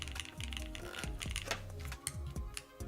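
Keys clack in quick, uneven bursts on a CW87 mechanical keyboard fitted with PBT keycaps, each press a crisp close tap with no voices over it.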